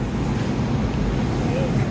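Fast-flowing Englishman River rushes through a canyon as a dense, steady roar, loud and close, mixed with wind buffeting the microphone.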